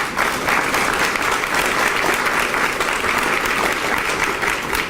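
Sustained applause from a large audience at a dedication ceremony for Rosa Parks Square in Macon, a steady dense clapping wash that holds at full strength with no voices over it.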